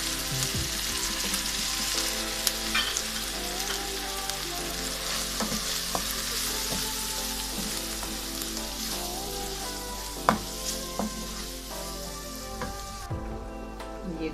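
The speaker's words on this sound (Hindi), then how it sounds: "टमाटर डालने के बाद हल्का सा चलाना और साथ ही ये सारे मसाले डाल दें।" Tomatoes and spices frying in a pan for a methi and chana dal dish, a steady dense sizzle lasting throughout with a few soft stirring scrapes and a brief clink near the end, no talk.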